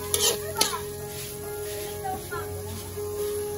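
Taro (gabi) and coconut stew stirred in a pan: a few scraping clinks of utensil against the pan over a soft sizzle, with a voice talking faintly in the background.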